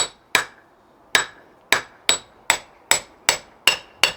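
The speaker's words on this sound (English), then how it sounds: "now we can hammer" Nine sharp, ringing metal strikes of a hammer on a blacksmith's anvil mounted on a silencing stand, steady and evenly paced after one opening blow, each with a short bright ring, close and loud with no talk.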